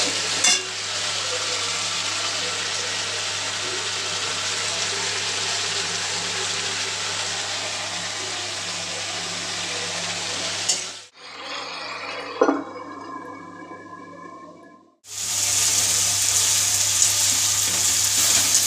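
Spice masala sizzles loudly and steadily in a pan while cooking a chilli dish, cutting out abruptly midway, returning briefly with a quieter hiss and a single clink, then resuming at full strength; no speech.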